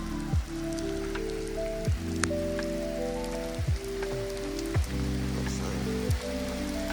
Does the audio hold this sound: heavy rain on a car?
yes